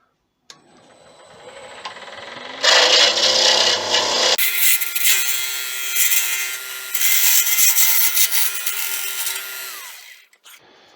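A lathe turns a pen blank made from Bethlehem olive wood offcuts. After a soft motor start, loud rasping cuts come in; they shift as the grain changes, then the tool stops abruptly.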